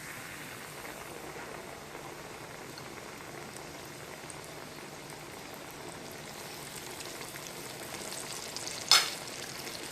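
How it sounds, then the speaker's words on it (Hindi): Pieces of burger patty fry in hot oil in a pan, giving a steady, faint, continuous sizzle and bubble with one brief sharp crackle near the end. "अब एक एक करके मैं इन पीसेस को इसमें डालूंगी और फ्राई करूंगी।"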